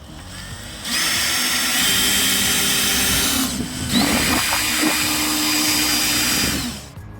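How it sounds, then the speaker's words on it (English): A power drill whines steadily as two-inch decking screws are driven through cedar pickets into the frame of a raised garden bed, in two long close bursts with a short pause between, and no voices. "I use a decking screw. It's a 2-inch screw to screw in the cedar pickets into the frame."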